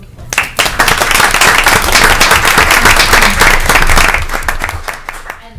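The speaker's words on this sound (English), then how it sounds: "So a round of applause." Applause at a board of education meeting for a middle school spelling bee winner, a burst of clapping that swells quickly, holds strong for several seconds and then tapers off near the end.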